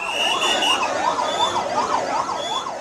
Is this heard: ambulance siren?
yes